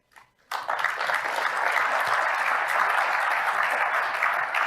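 An audience breaks into applause during a political speech, starting after a brief pause and holding as a loud, dense, sustained clapping from a large crowd without letup.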